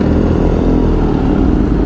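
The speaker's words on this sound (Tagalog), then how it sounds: "Yun ang tunog ng R90 oh." A BMW R nineT motorcycle engine runs loud and close, a steady throaty rumble with no voices over it.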